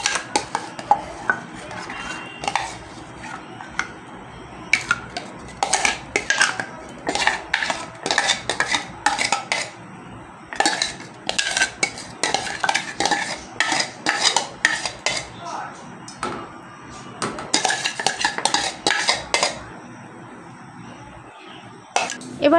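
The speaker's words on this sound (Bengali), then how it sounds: "আমি একটা বাটি নিয়েছি, আর বাটির মধ্যে আমের যে পাল্পটা সেটাকে কিন্তু দিয়ে দিচ্ছি।" Mango pulp spooned into a bowl, a dense run of clinking and scraping spoon-on-bowl sounds in quick irregular bursts, close and fairly loud, with occasional speech in between.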